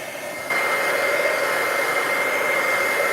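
A heat tool switches on and blows a loud, steady, close whoosh while drying stamped card pieces in a papercraft workshop, running continuously without talk.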